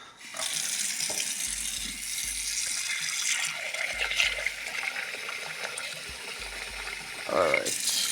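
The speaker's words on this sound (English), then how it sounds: "Add some water to the rice." Water pours from a kitchen tap into a pot of rice near a stove, a steady close splashing rush that runs unbroken for several seconds before tapering at the end.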